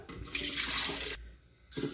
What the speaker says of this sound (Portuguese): A gente vai estar tá acrescentando aqui a água